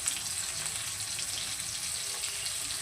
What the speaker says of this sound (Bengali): আলুটাকে দিয়ে আলুটাকে একটু লাল করে ভেজে নেব